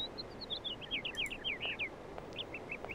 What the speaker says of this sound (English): Birds chirping